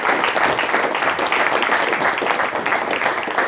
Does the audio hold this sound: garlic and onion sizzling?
no